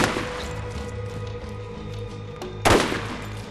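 A liquid sniper rifle in Borderlands fires one sharp, loud shot near the end, after a stretch of steady in-game background hum.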